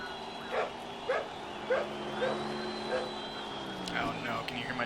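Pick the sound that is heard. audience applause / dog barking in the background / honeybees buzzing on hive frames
dog barking in the background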